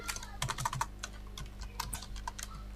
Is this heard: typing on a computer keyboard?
yes